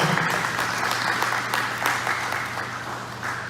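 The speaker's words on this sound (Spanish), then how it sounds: "Dale un fuerte aplauso al Señor." Church congregation applauding during a Spanish-language service, giving sustained close clapping from many hands over a low hum that fades slightly toward the end.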